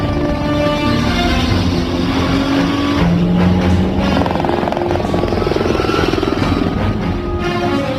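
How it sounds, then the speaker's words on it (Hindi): A helicopter approaches during a car-chase movie scene, its loud rotor and engine roar blending with revving car engines in a dense, continuous wash of vehicle noise. "वो हेलीकॉप्टर से आ रहे हैं।"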